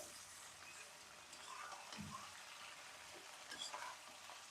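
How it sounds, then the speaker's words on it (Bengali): Onion, garlic, green chili and coriander leaves fry in a pan with a soft, steady sizzle and faint stirring scrapes, quiet and continuous throughout. "ধনে পাতাগুলোও দিয়ে দিলাম, ভাজা ভাজা হয়ে আসছে।"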